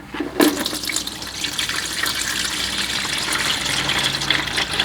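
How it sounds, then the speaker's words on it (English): Transmission fluid from a Kia Sportage gushes from the open drain plug hole after the drain bolt comes out. A close, steady pouring rush follows a brief clunk at the start. "Now while we let the fluid drain, take a look at your drain plug."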